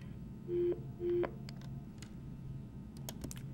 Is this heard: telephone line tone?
yes